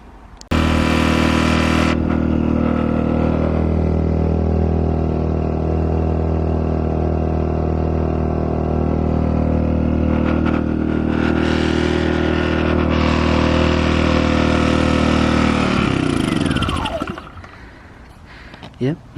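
A Wolf WPG950 portable petrol inverter generator, just repaired for a fuel leak, starts up and runs with a loud, steady, close engine drone for most of the clip before winding down near the end.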